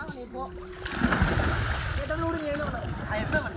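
A person jumps into water for a swim with a heavy splatter, surrounded by excited voices and shouting from several people nearby.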